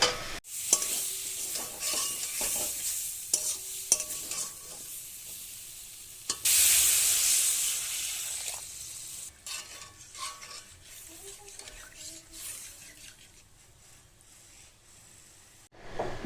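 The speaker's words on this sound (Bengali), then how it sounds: "খুব ভালো করে মশলাটা কষিয়ে নেবো এবার" Bengali spice paste being sautéed in a pan for a fish curry, a steady close sizzle under repeated scraping stirs of a spatula, louder in bursts, then fading toward the end.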